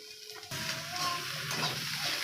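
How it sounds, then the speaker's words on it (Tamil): Kozhukattai mix with cooked urad dal and salt being stirred and sautéed in a pan, a quiet, steady sizzle with soft scraping of the spoon, close and alone without talk. "இதை நல்லா கொஞ்சம் கிளறி விட்டுட்டே இருக்கணும்."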